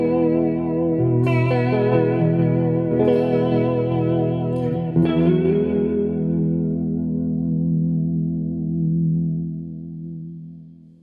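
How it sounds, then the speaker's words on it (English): A sustained guitar chord and a few struck notes ring out through an EarthQuaker Devices Aqueduct vibrato pedal in sine wave mode, with a smooth, gently wavering pitch modulation, then slowly fade away. "sine waves are most typically associated with classic amp-like vibrato"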